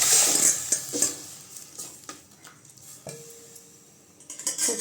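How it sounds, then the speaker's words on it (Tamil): Dissolved tamarind and tomato liquid is poured into a hot pan of oil-fried seasoning for rasam, with a brief sizzle. Faint clinks of the pan and utensils come and go alongside the pour. "இப்போ புளி தக்காளியெல்லாம் கரைச்சி ஊற்றிக்கலாங்க."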